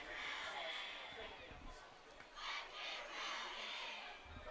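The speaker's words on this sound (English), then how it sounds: "The Cougar student section trying to cheer on their offense." A high school student section cheers during a Cougars football game against Butler County, a steady roar of crowd voices with swelling shouts, fairly distant and continuous throughout.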